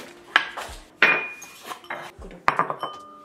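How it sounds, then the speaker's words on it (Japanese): Clinks and knocks of a newly received unbreakable tableware set being handled indoors, several separate sharp contacts of dishes and cutlery spread over a few seconds, fairly close, with no talking. "友達に食器セットをもらいました"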